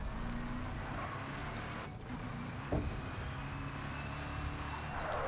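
A fast car engine in the Battlefield Hardline video game hums steadily throughout at moderate level, with a brief thump partway through, no voices.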